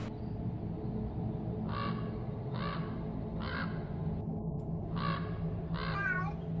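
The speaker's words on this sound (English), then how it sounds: "there's my cat now" A house cat meowing somewhere in the room, five short harmonic calls spaced about a second apart over a constant low background hum, clear but not close.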